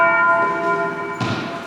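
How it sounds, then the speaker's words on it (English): A large bell at the Tower of London tolls once, its rich ringing tone fading slowly before a soft thud cuts in near the end, fairly loud over faint outdoor ambience. "Bell's tolling."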